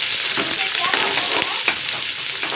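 Mustard seeds and curry leaves frying in hot oil produce a dense, loud, close sizzle with fine crackling and popping throughout.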